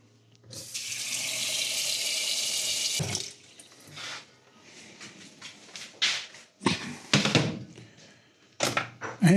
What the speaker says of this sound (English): We're going to put some water on them.